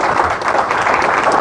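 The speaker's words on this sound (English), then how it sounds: "clap it up for my expert panel" Audience applauding an expert panel at a property-investing seminar, a dense, steady wash of clapping that fills the short moment at close, loud level.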